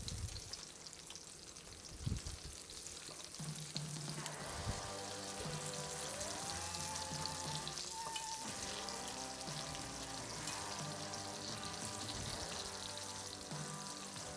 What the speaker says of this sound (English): Okay, we're frying, we're frying.